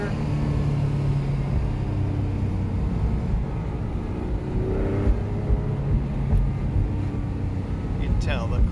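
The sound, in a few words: Porsche 997 Gemballa Avalanche engine downshifting and accelerating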